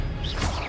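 Expelliarmus disarming spell cast in Hogwarts Legacy, a short swooshing burst of magical energy lasting under a second, loud and close over steady game background noise.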